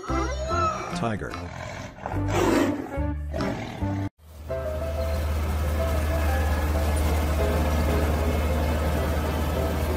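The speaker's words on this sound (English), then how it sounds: "Tiger." A tiger roars loudly and close in a few rough, drawn-out bursts, then a steady low engine-like rumble carries on to the end.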